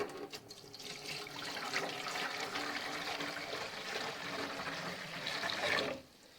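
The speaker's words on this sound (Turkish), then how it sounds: "üzerine suyumu ilave ediyorum" Water poured steadily into a bowl holding apple cider vinegar, a soft continuous splashing trickle heard fairly quietly for several seconds and stopping abruptly at the end, with no voices.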